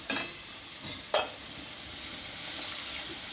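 Fish curry masala for rui posto stir-fries in oil, a soft continuous sizzle with two quick spatula scrapes against the pan near the start, then a steady hiss.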